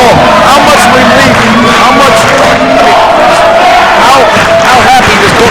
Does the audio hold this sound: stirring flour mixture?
no